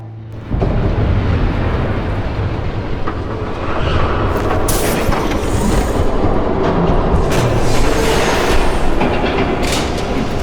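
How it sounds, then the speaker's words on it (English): A train thunders past in the Batman Telltale game, starting abruptly loud and holding a heavy, roaring rumble with clattering rail noise and rising intensity throughout, close and overwhelming. "There's a train coming."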